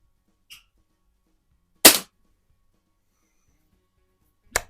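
A Hy Score model 819 air pistol, a resealed Diana 10 with a new breech O-ring, fires two sharp isolated shots a few seconds apart in a quiet setting, with a faint click before them.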